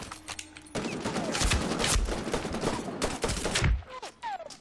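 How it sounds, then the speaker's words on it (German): Gunfire in the shooter game Medal of Honor Warfighter: dense, rapid bursts of automatic weapon fire crackle close by for several seconds, then trail off into scattered shots. "Hier rechts wird geschossen"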